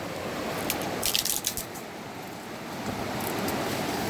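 Rushing water of the Río Bravo, a steady broadband roar close by, swelling slightly in the middle with splashy bursts, alone with no voices.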